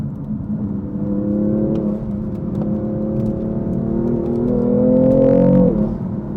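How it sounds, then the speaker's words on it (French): A BMW under way on a rough road, its engine whirring steadily and rising, then a brief turbo blow-off release near the end as the throttle lifts. "le turbo qui décharge"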